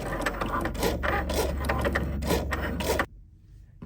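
A Cricut-style craft vinyl cutting machine making a test cut on color-changing craft vinyl, a busy whirring and scratchy motor sound with quick rhythmic strokes that runs steadily for about three seconds, then stops abruptly, leaving quiet room tone.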